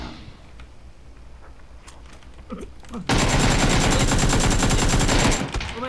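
Rapid, dense gunfire in the game PUBG bursts in loudly after a quieter stretch, sustained automatic fire for a couple of seconds before cutting off.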